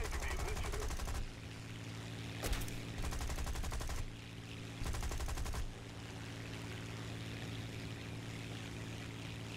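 Bursts of game gunfire from War Thunder with U.S. Army forces, dense rapid volleys in blocks of a second or so between steady engine drone, fairly loud.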